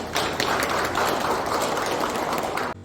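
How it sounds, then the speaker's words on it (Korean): An audience applauds at a county press conference marking the third anniversary of a local administration, a dense, steady round of clapping that stops abruptly at the end. "큰 박수 부탁드립니다."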